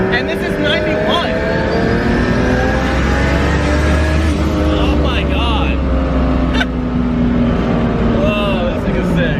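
A turbocharged JZ-engined swap in a Mazda Miata, running 91 octane, drives loud and close: a steady engine drone with rising revs and changing pitch throughout, a short exclamation from a person partway through.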